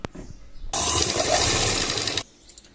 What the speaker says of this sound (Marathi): अशा प्रकारे मी शिलाई टाकून घेतलेली आहे